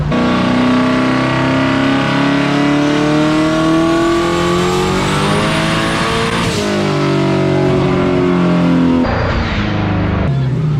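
A boosted Ford Mustang revs hard during a horsepower challenge run at a Ford car show, the loud engine note climbing steadily in pitch, then cutting off and dropping near the end, with some voices faintly underneath.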